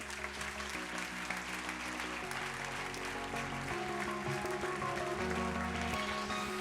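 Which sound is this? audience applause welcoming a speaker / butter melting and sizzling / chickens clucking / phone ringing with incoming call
audience applause welcoming a speaker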